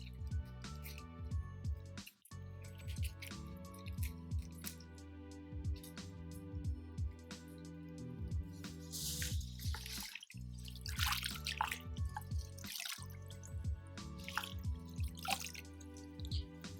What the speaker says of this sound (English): I'm going to dunk the flower head 2 times